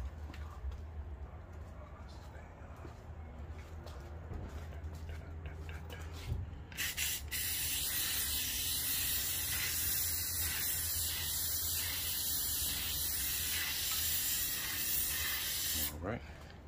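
Paint sprays in a steady airy hiss while a second coat goes onto an interior surface. The hiss grows louder and fuller after a short pause and runs on with only brief breaks.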